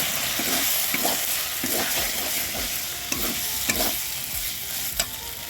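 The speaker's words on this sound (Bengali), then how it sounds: "এবার যে আলুটা ভেজে রেখেছিলাম আলুটা দিয়ে দেবো।" Fried potatoes tumble into masala sizzling in oil for a paneer curry, stirred with steady scraping strokes over a continuous close frying hiss, no voices.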